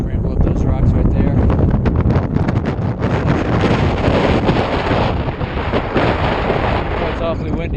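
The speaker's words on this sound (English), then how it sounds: "Oh, it's awfully windy up here." Strong gusting wind buffeting the microphone near Forester Pass at about 13,000 feet, a loud continuous roar for the whole stretch with a voice faintly present beneath it.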